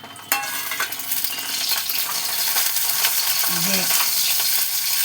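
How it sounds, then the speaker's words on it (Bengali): Bori, small lentil dumplings, fry in hot oil with a steady, close sizzle that begins abruptly and holds loud and even, with a brief voice at the start. "এই যে বড়িগুলো আমি ভেজে নিচ্ছি"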